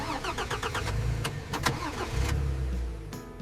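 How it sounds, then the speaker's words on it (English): A car engine cranks repeatedly without catching, a steady mechanical churn that rises and falls close by, with no voices over it. "Come on, car! Why won't you start?"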